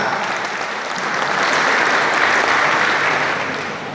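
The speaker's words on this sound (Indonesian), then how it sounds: "Tepuk tangan buat Pak Caleg" Sustained audience applause for Gerindra party legislative candidates at a regional coordination meeting in Central Java, swelling in the middle and easing off toward the end, with no voices over it.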